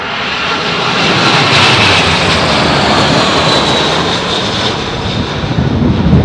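A large passenger airplane coming in to land and touching down, with a loud, steady engine roar and broadband rush that holds throughout, close and continuous with no voices.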